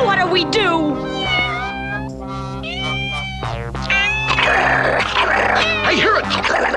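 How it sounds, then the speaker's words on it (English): A cartoon cat meows repeatedly in bright, rising and falling tones, loud and close, mixed with animated character voices talking and exclaiming over it. "I hear it! I hear the little kitty cat!"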